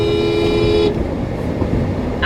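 A car passes close by on a road, a loud steady vehicle roar with a brief horn-like tone early on, fading somewhat before another burst of noise at the end.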